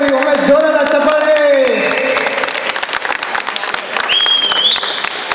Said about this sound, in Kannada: ಒಮ್ಮೆ ಜೋರಾದ ಚಪ್ಪಾಳೆ